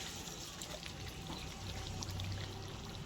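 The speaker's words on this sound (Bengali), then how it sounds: "এবার নামাবার আগে আমি একটু ঘি দিয়ে দেবো" Ghee trickles into a simmering fish head and flattened rice curry, a soft steady pour against a constant hiss of cooking noise at low level.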